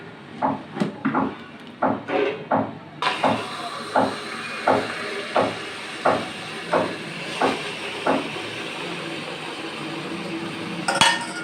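Tandoori tea poured into a hot glass set in a clean vessel, a loud rushing hiss and steam sizzle that starts abruptly and holds, with rhythmic clinks and knocks of vessels throughout, close by.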